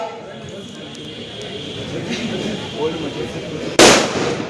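A mortar in military training fires with a single loud, sharp blast near the end, and the noise rings on briefly. Before it comes a steady murmur of outdoor background noise.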